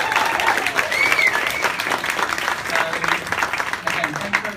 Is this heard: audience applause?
yes